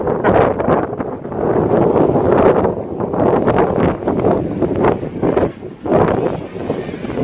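Strong outdoor wind buffets the microphone in heavy, continuous rushing gusts with brief lulls during a Tarot 130 brushless micro quadcopter flight; no talking is heard.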